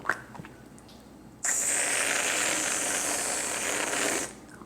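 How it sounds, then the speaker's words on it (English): Whipped cream sprayed from a pressurized can onto a white chocolate mocha in a mug, a steady close hiss lasting about three seconds after a few small clicks and handling sounds. "I like to top mine with some whipped cream"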